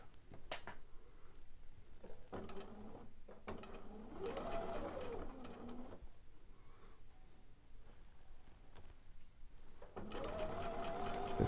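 Sewing machine stitching a quilt block, faint rapid mechanical clatter in short bursts separated by pauses, with quiet handling noises in between.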